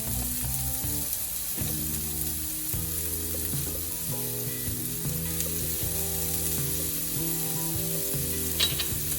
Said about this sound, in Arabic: نقلي البصل هون. هلا بدي اضيف عليه المشروم.